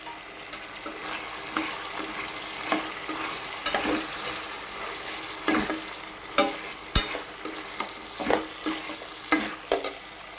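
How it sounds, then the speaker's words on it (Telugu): Potato pieces frying on a medium flame, a steady close sizzle broken by repeated sharp scrapes and clatters of stirring, with no one speaking. "ఇలా మీడియం ఫ్లేమ్లో పెట్టుకుని వేపుకుంటూ ఉండాలండి ఈ బంగాళదుంప ముక్కల్ని."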